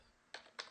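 Two sharp computer keyboard key presses, close and fairly quiet, spaced about a quarter second apart against a faint background hiss.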